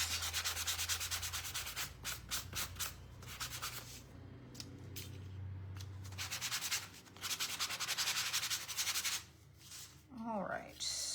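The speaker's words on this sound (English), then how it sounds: "Let's go ahead and start sanding everything so we can start putting it together" Hand sanding of small DIY wooden duck craft pieces, a steady run of close, scratchy rubbing strokes in quick rhythmic bursts with brief pauses, plus a faint low background hum.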